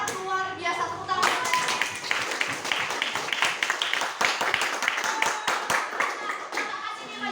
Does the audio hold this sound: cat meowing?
no